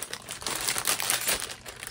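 A crinkly plastic package holding a hand-dyed mystery yarn skein being torn open, loud close crinkling and rustling that runs continuously.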